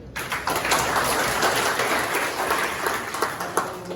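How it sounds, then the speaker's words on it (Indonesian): An audience at a provincial inauguration ceremony applauds an honored guest, a moderate, sustained patter of many hands heard from a slight distance, with a few sharper individual claps near the end. "Itu tepuk tangan untuk beliau."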